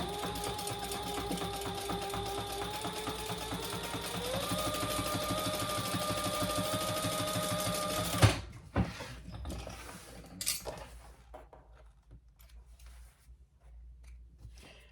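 A sewing machine top stitches cotton fabric for a glasses case, a fast steady mechanical chatter for about eight seconds before stopping, followed by faint clicks and handling noises.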